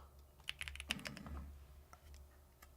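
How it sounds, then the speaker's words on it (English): Rapid, uneven keystrokes on a computer keyboard clatter in a short burst, loud and close, then thin out into a few scattered taps over a low background hum. "Man, I was just typing it."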